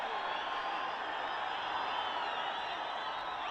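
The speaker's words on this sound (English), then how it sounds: "listen to the crowd, listen to the noise, listen to the roar" A crowd at a T20 cricket match between Nepal and Namibia roars continuously, a broad, dense wash of cheering voices held at a steady level throughout.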